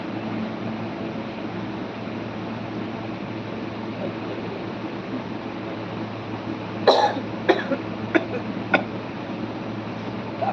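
A steady hiss of background noise, then a short burst of several sharp coughs near the end, fairly close.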